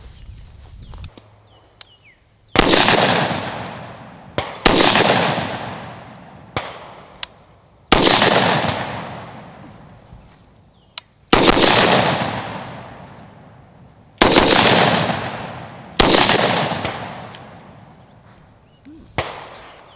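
A Type-A short stroke piston AR rifle fires about eight loud, sharp shots at an unhurried pace outdoors, each crack trailing off in a long echoing decay before the next.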